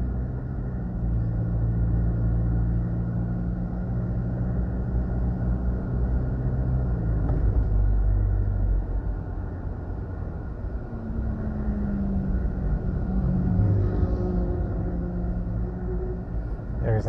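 Car traffic on a road where taxis stop to pick up and drop off passengers, a continuous low engine rumble with vehicles idling and pulling away nearby, under speech.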